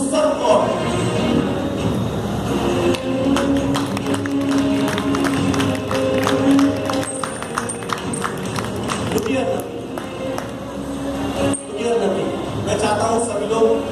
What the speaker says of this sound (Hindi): मैं चाहता हूं सभी लोग रुक जाएं और तालियां ना बजाएं।